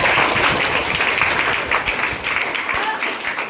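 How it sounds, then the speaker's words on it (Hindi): Loud, dense clapping from a classroom of schoolchildren fills the whole stretch, steady and close with no pauses. "चलिए जोरदार ताली बजाइए।"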